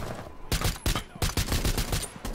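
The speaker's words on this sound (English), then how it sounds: "I like the pistol sound." Maverick's pistol fires in Rainbow Six Siege, a rapid volley of about six sharp close shots in quick succession with little gap between them.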